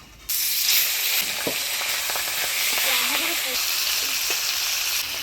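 Catla fish heads frying in hot oil in a pan, a steady loud sizzle and crackle throughout with occasional stirring sounds and a voice speaking briefly underneath.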